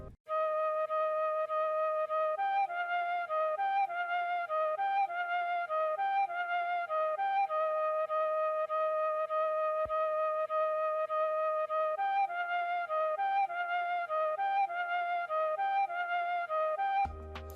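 A second synth melody from an FL Studio Afrobeats remake of a song plays alone: a bright, sustained lead stepping through a looping phrase, steady and loud, with a short click near the end.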